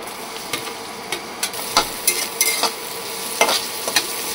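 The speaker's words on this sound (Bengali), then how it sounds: "এরপরে পেঁয়াজ কুচিগুলো দিয়ে দেবো" Chopped onion added to hot oil with minced garlic and ginger, sizzling steadily with scattered spatula scrapes and clinks against the pan.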